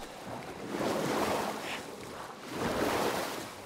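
Underwater swimming in the video game Jedi Fallen Order, with muffled, swelling water ambience that rises and falls in slow waves, soft and continuous with no talking.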